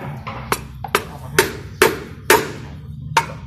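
Evenly spaced sharp knocks of a hammer striking wood, about seven blows over a few seconds, close and loud against a quiet background.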